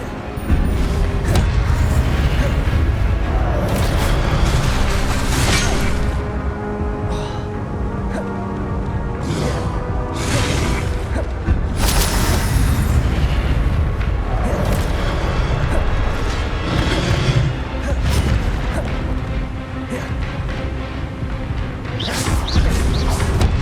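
Rapid Expelliarmus and Incendio spell blasts in Hogwarts Legacy, a dense barrage of booming, crackling impacts and whooshes repeating without pause, loud and close.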